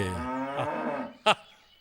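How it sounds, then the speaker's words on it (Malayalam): A cow lows in one long, drawn-out moo, close and fairly loud, ending in a brief sharp knock; no one speaks. "പശുവിന് പുല്ലുള്ളറ്റോ കൊടുക്കൂ. അത് കിടന്ന് അമർന്ന് കേട്ടില്ലേ?"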